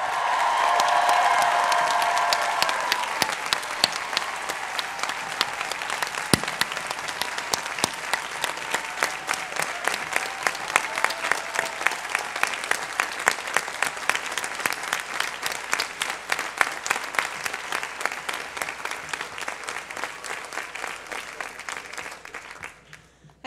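A large commencement audience applauds the graduating class of 2011, a dense wash of clapping that starts loud with a few cheers, then settles into a steady rhythmic ovation that gradually thins toward the end.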